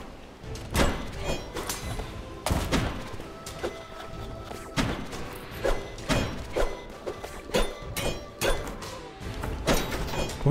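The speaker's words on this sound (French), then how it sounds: "J'ai lâché une bombe sans faire exprès" A bomb goes off in the dungeon-crawling video game Undermine, with repeated dull thuds and crashing impacts scattered across the scene, loud and close, mixed with busy game effects.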